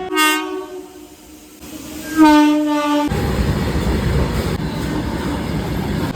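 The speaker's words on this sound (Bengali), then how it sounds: "মালগাড়ি পাস করা হচ্ছে" A freight train on the Howrah–Ranchi rail route sounds two horn blasts, then its wagons roll past with a steady, loud rumble and rattle.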